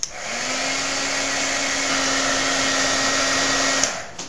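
A hair dryer blows on wet paint with a steady, close whoosh and a faint whine, switching on and off cleanly after about four seconds.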